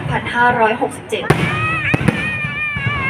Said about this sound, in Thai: เป็นการจุดพลุเฉลิมพระเกีย รติ